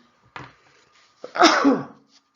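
A single sneeze: a short sharp inhale followed by a loud explosive burst, then silence.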